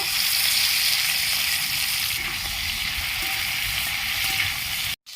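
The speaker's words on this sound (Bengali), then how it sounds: "চিংড়ি মাছগুলো ভেজে নেব" Prawns frying in hot oil in a wok give a loud, steady, close hiss and crackle that runs unbroken and cuts off abruptly at the very end.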